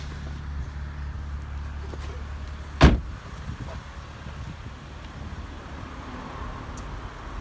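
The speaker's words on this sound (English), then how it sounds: "let me get out the car now, show you what the car looks like with the roof down." A car door on a BMW Z4 3.0 sDrive30i M Sport roadster shuts once with a single sharp thud midway, over a low steady engine hum and faint outdoor background.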